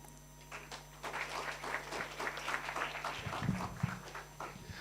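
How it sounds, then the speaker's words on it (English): Applause for the chief guest at a business club launch event in Kenya, a faint, scattered clapping from a modest crowd in a hall, with a low hum beneath it. "another round of applause for our chief guest"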